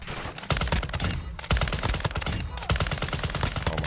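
Sustained automatic gunfire from the video game Call of Duty DMZ, played as a heavily armored Juggernaut: dense rapid bursts of shots, loud and close, with brief gaps around one and a half and two and a half seconds.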